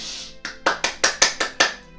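A quick run of about seven sharp hand claps, close and loud, in an even fast rhythm with no talking.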